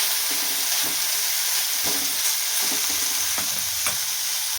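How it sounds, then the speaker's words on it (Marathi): Pieces of bitter gourd coated in salt and oil stir-fry in a pan, giving a steady close-up sizzle. Occasional soft scrapes and taps from stirring break through the hiss. "कारल्याच्या फोडी परतायला ह्याला 2-3 मिनटं लागणार आहेत"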